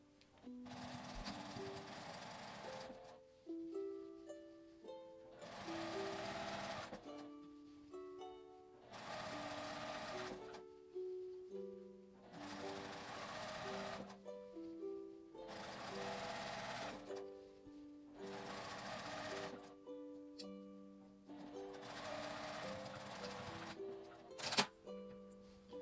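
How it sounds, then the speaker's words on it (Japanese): A sewing machine stitches the edge of thin fabric for an unlined drawstring bag, running in about seven loud, close mechanical whirring bursts of a few seconds each, separated by short quiet pauses, with no talking. "布の端と上から2センチを縫います。"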